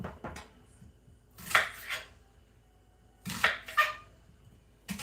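Chopped onion tipped into a crockpot for turkey breast and stuffing, giving two short clattering bursts about two seconds apart, close and moderately loud, with near silence between.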